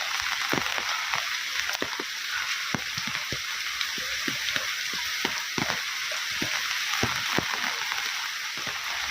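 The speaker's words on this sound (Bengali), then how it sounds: "আর সকাল থেকেই প্রচুর পরিমাণে কিন্তু বৃষ্টি হচ্ছে" Heavy, steady rain that has been falling since morning among banana trees and thick vegetation, a dense continuous hiss scattered with sharper drips and splats, with no voices.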